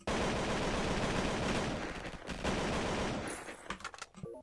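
Rapid ray gun gunfire in the Roblox game Flag Wars, a loud dense continuous burst of shots that thins into scattered sharp bursts near the end, no voices.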